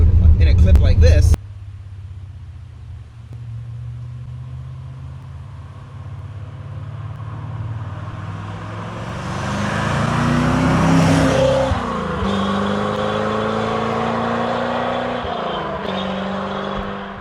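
A Chevrolet C4 Corvette drives down the road, its exhaust building from a low rumble to a louder swell as it nears and passes, then easing to a steady drone; a short burst of talk comes at the start.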